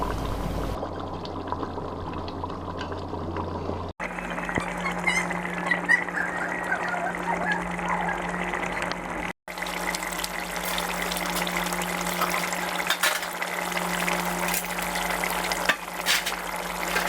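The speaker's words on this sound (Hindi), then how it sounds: "गोश्त में अब हम दही डालेंगे।" Beef korma cooks in a karahi, and yogurt goes into the meat with steady frying and bubbling, a sustained sizzle broken by a couple of short cuts, with no speech.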